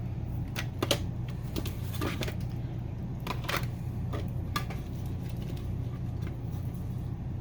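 Small snips cut the corners off a sheet of paper card, giving a run of quiet, crisp clicks at uneven intervals over a steady low background hum.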